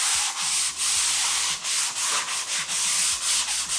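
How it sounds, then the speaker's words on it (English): Angled sanding sponge rubbed along a drywall corner in steady back-and-forth strokes, a loud, close, continuous gritty scraping with a regular rhythm and no talking. "this is how we sand our angle"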